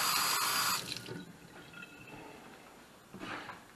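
Water gushes from a faucet with its valve stem removed, a loud splashing rush that abruptly drops to a softer trickle and dripping, then briefly surges again, with no one speaking.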